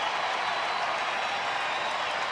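Broad, steady roar of a baseball stadium crowd cheering at a Baltimore at Texas game, a continuous wash of noise with no breaks.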